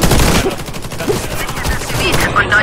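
Rapid gunfire in the Xbox 360 shooter Warface, a dense, continuous clatter of shots and battle noise throughout, loud and close, with no clear individual bursts standing out.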